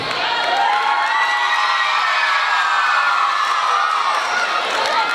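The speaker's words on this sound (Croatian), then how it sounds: "A Sajra, ti si večeras digla publiku na noge." An audience at a singing competition round of a festival in a cultural centre hall cheers loudly, with whoops, high shouts and a steady crowd roar sustained for about five seconds.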